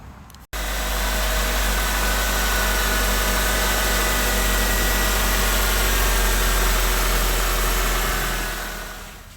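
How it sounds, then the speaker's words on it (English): A car engine cranks and catches after an oil change, then settles into a steady, loud, close idle with a low rumble before fading at the end. "So we're gonna go ahead and start it up and then check for leaks."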